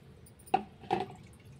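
Homemade liquid plant fertilizer, made from things like flowers, onions or rice water, is strained through a filter in two short, soft splashy pours close by and quiet.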